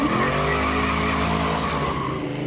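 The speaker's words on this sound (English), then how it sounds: "He spun the tires a little bit." A hot-rodded Mustang or Cougar spins its rear tires at launch on a tight timed course, giving a loud, steady tire screech over engine roar for the whole stretch.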